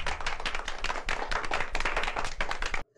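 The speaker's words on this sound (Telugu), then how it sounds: "సినిమాలో వాడి వేషం బయటపడినందుకు కథానాయక సాహసానికి చప్పట్లతో అందరూ" A group clapping in a film scene, steady dense applause from many hands that cuts off abruptly near the end.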